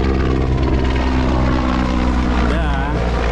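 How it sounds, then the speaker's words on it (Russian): A helicopter thunders overhead at a river during a paddleboard trip, loud and constant with a steady rotor drone from start to end. "Черт, нас запалили с вертолета."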